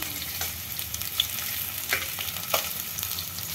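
Roughly chopped onion frying in 30 ml of oil over a medium flame, a steady close sizzle with occasional stirring scrapes throughout, no voices.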